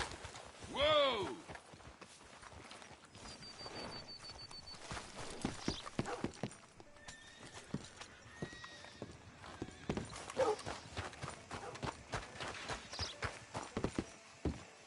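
Horse hooves clip-clop at a walking pace in Red Dead Redemption 2, steady and fairly close, along with a brief whinny near the start and scattered game voices and ambient sounds.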